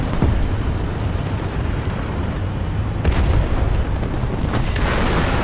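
Missile strike on a T-44 tank in War Thunder, heard as a dense run of explosive booms and rumbling blasts with a sharper impact crack near the middle, loud and continuous with no talk.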